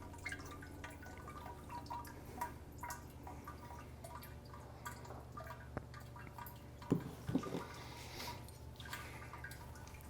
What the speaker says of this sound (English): Wait till it's done draining.